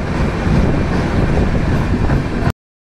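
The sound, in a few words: Dhauli Superfast Express train leaving Belda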